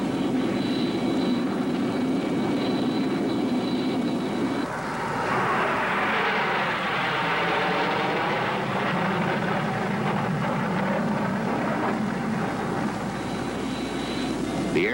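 A remotely piloted QF-86H Sabre drone jet lands at China Lake, its broad engine roar steady and fairly loud, shifting in tone midway as the aircraft passes through touchdown.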